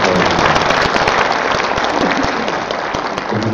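Sustained, dense applause fills a ceremony hall at an international academic conference's opening as the senior Buddhist monk and head of a Buddhist order is introduced, the crowd clapping loudly and evenly throughout.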